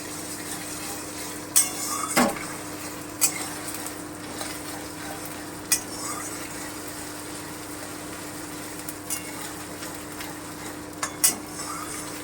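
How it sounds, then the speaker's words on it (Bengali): Ginger paste frying lightly in a pan, a faint low sizzle beneath a steady hum, broken by occasional sharp clinks and scrapes of a spoon stirring, no talk. "দু চামচ মতন আদা বাটা আছে একটু ভেজে নেব হালকা করে"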